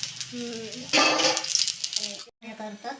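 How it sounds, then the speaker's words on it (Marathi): Colocasia leaf rolls (alu vadi) sizzle as they fry in oil, a crackling hiss that swells briefly under people talking nearby. "आता म्हटलं कडक खायच्या म्हणून मी तळून घेते"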